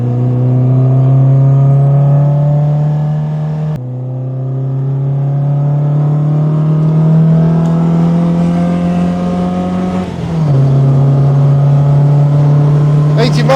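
An MGB's engine pulls hard under acceleration on the Castle Combe circuit, a steady loud harmonic drone climbing in pitch, broken by a brief dip near four seconds and a quick gear change near ten and a half.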